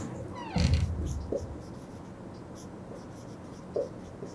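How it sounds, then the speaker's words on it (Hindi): Chalk or marker writing on a classroom board during a geography lesson on manufacturing industries, a short burst of scratchy strokes near the start followed by faint intermittent scrapes over quiet room tone. "मैं इसका डेफिनेशन आपसे लिखता हूं यहां पर"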